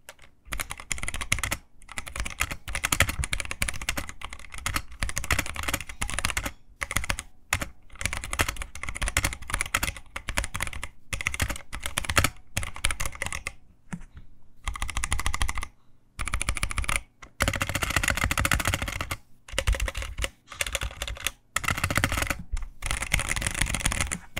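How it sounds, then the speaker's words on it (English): A Drop ALT 65% keyboard fitted with Halo True tactile switches rattles with fast, dense keystrokes heard up close. The typing runs in steady bursts with brief pauses, has no click, and no one speaks. "The Halo Trues have a 60 gram actuation force and are tactile, meaning they have a small bump when the key actuates, but no audible click."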